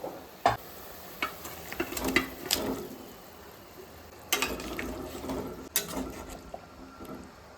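Fish pieces go into a simmering fish curry, making soft splashes and clattering plops over a low bubbling sizzle, heard close up with no talking.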